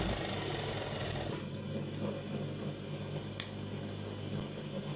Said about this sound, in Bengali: তো দেখুন এভাবে আমি আরেকটি সেলাই দিয়ে দিই